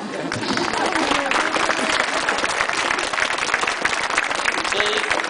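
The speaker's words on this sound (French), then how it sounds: "Il faut applaudir, n'est-ce pas?" Audience applause at a Lantern Festival gathering in Chantilly, following a speech praising Chinese cuisine: dense, steady clapping from a sizable crowd, loud and sustained throughout with faint voices mixed in.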